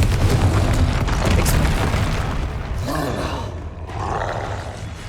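Confringo fire spell explosions in the video game Hogwarts Legacy, a dense rumbling boom with roaring blasts that fills the whole stretch, loud and continuous.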